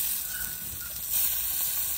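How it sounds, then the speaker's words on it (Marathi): Paneer tikki set down on a hot tawa gives a steady, close hiss of sizzling oil that rises slightly toward the end. "आता एक एक टिक्की तव्यावर सोडून घेऊ."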